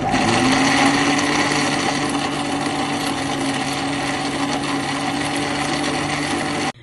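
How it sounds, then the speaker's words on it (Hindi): A blender whirs steadily, loud and close, while blending green chutney in a home kitchen, then cuts off abruptly at the end. "इसको अच्छे से हम ब्लेंड कर लेंगे।"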